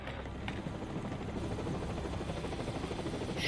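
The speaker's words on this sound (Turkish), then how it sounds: "Şuradan kaçacağım da helikopter bana sıkacakmış gibi geliyor." Helicopter in the video game Max Payne 3, a steady loud rotor drone with continuous broadband thrum throughout, no speech.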